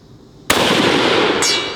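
Two loud, sharp hunting-rifle shots aimed at a steel target, the first a heavy blast at mid-clip that rings on and the second following about a second later, with no talk.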